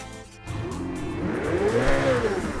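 A yellow Ferrari with red interior in GTA 5 revs hard and accelerates, engine pitch sweeping upward in a loud, close roar with a hint of tire squeal.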